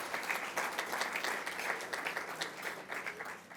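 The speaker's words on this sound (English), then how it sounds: "The applause was for you." Audience applause at a 30th anniversary charity breakfast, a full room clapping in a dense, steady stream of claps that rises and falls slightly without stopping.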